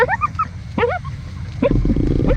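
Small hunting dog barking and yipping in quick bursts while digging for rats at night, high excited yelps close by over a low rumbling background.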